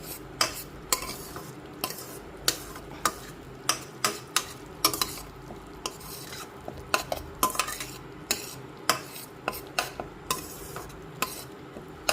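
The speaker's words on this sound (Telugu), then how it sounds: "చూడండి ఉడుకుతుంది దగ్గరికి వస్తుంది కొంచెం దగ్గరికి రావాలన్నమాట మాడకుండా చూసుకోవాలి" Gongura chutney cooks in a pan on the stove, with a low bubbling sizzle under a regular series of sharp clicks and taps as a spoon stirs and scrapes it, close and alone.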